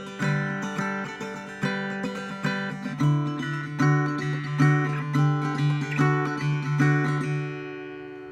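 Acoustic guitar riff for a song played plainly without the hammer-on or slide, several ringing strummed chords and plucked notes in a steady rhythm, close and clear, alone with no talking.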